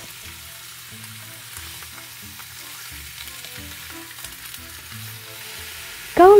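Beef fries in oil in a hot wok with a low, steady sizzle, quiet for most of the stretch before a sudden louder burst right at the end.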